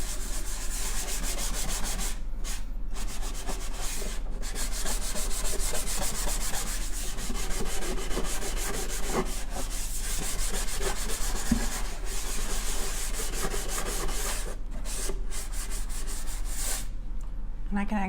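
Steady rubbing of a finish onto a wooden furniture drawer, a continuous scuffing texture with a few brief pauses, close and moderately loud.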